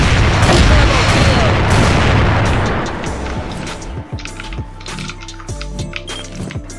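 Gunfire and booming blasts in a Portuguese-language team shooter match, loud dense bursts early that thin out into sparser sharp cracks and clicks, with players talking over the game.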